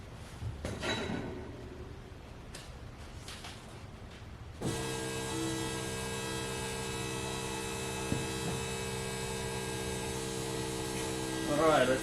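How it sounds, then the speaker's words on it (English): Fuel pump on a first-generation Audi TT with a swapped-in LS engine, giving a steady electric hum with even tones that switches on abruptly a third of the way in and runs continuously at a constant level. "fuel pump again"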